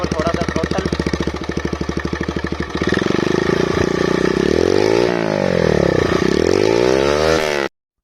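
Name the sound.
motorcycle with custom exhaust revving at throttle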